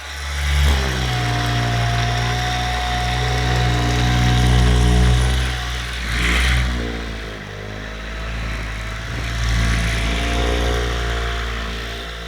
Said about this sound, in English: It's literally a car buffer, but you're gonna find it's amazing at-home self-massage tool